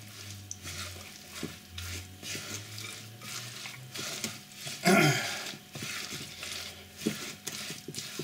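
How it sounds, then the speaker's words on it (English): Quiet, soft stirring of grated carrots into a thick moist sugar mixture in a bowl, with scraping and squishing strokes and one louder knock partway through. "so let's just give that a stir"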